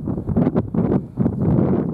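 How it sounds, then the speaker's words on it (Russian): Strong winter wind at about minus 2 to minus 3 degrees buffets the microphone in heavy gusts that rise and fall, a low roaring rush with no other sounds. "Ветер сильный, обдувает, подтаивает."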